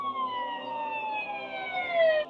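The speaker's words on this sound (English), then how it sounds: "the sound of the sirens was added in later during the editing process" Police siren wailing in a steady falling sweep, clear and prominent, heard alone for a couple of seconds at moderate volume.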